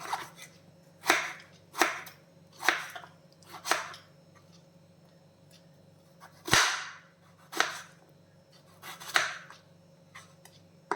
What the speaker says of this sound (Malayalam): ഇതിനെ ചെറിയ ചെറിയ പീസസ് ആയിട്ട് കട്ട് ചെയ്യണം